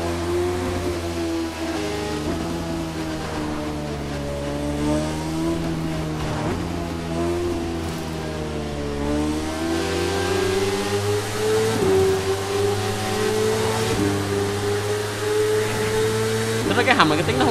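Motorcycle engine in The Crew 2 racing game riding through a tunnel, a sustained whining engine drone steadily rising in pitch as it accelerates, with someone talking over it throughout.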